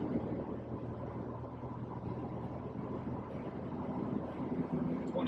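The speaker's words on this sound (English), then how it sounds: "There's a little bit of wind noise, and we're only doing about 110 kilometers an hour right now" A Jeep Wrangler TJ cruising at around 110 km/h, with a steady low engine and road rumble beneath a constant rush of wind noise, loud and unbroken throughout with no voices.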